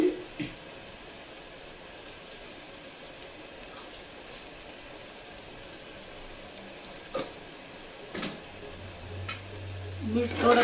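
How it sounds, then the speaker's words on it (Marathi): Onions frying in a pan for chicken masala, a faint steady sizzle broken by a few soft stirring scrapes and clinks, with no talking. "असं हलवलं तर मग चारी बाजूने चांगलं भाजलं जाते"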